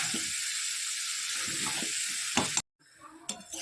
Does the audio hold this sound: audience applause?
no